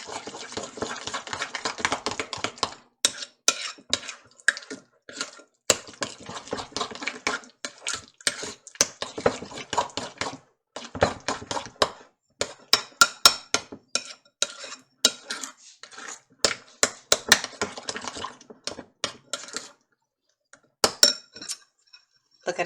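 A spoon stirs pepper jam with fresh peppers mixed in, sounding as a long series of close, sharp clinks against a glass or ceramic bowl in uneven bursts, with short pauses.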